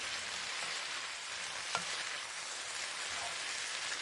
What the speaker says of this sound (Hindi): मैंने हाफ़ कप ऑयल लिया है और एक मीडियम साइज़ प्याज को काट के इसमें शामिल कर दिया है।